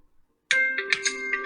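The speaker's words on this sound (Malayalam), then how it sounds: "ഒ ടി പി വന്ന ശബ്ദം കേട്ടിട്ടുണ്ടാവും നിങ്ങൾ" A short electronic phone notification chime for an incoming OTP plays: a bright, ringing tone with a couple of quick follow-up pings, clear and close against silence.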